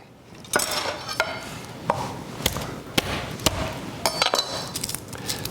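Knife slicing fresh garlic thin on a cutting board, a series of sharp irregular taps and chops spaced about a second apart, close and clear with kitchen clatter.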